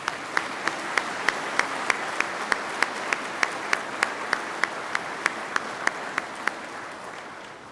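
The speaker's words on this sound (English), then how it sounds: "would you please join me in a round of applause thanking them for their work" Rhythmic group applause at a peace officer basic academy ceremony, steady even claps in a regular beat, moderately near and sustained.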